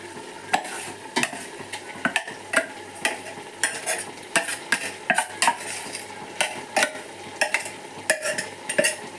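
A spoon stirs and scrapes broiler chicken with masala for Mangalorean chicken sukka in a pot, giving sharp, repeated metallic clinks in an uneven rhythm over a low, steady simmer and sizzle.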